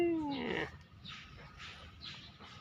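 A cat gives a single rising-then-falling meow up close, followed by quieter breathy rustling and soft background noise.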